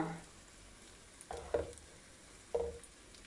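A sauce base of peppers, leeks and coconut milk sizzles faintly in a hot pan, with a low frying hiss and a few brief stirring scrapes and bursts.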